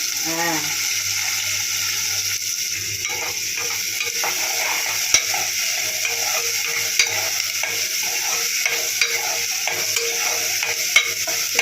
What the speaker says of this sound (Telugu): ఫస్ట్ ఉల్లిపాయ పచ్చిమిర్చి వేస్తామా. ఇది కాసేపు ఫ్రై అవ్వాలా.